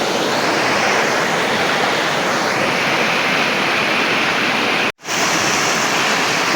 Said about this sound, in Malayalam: നൊര കുത്തി ഒഴുകുന്ന നല്ല അടിപൊളി വാട്ടർഫോൾസ് നമുക്ക് നമ്മുടെ വീട്ടിലിരുന്നാൽ തന്നെ കാണാൻ പറ്റും